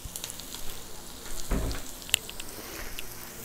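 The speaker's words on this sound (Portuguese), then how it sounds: "para a gente refogar essa cebola" Chopped red onion sautéing in bacon fat and bottled butter gives a steady close sizzle and crackle in the pan, with a brief louder stir or thump partway through and no talking.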